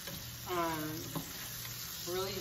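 Meat and vegetables frying in a pan for an omelette, a steady close sizzle that runs throughout, with faint voice-like tones drifting in and out in the background.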